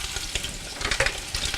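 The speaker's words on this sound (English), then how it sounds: "let that sizzle a little bit there." Chicken sausages sizzle in hot oil in a pot, a steady close crackle with brighter spitting pops and bursts throughout, no voices.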